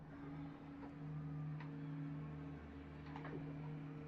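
Porsche Cayman Cup race cars in a racing video game at Dragon Trail Gardens, a steady engine drone with sustained tonal hum and occasional brief higher engine notes as cars pass, heard alone at a moderate, distant level.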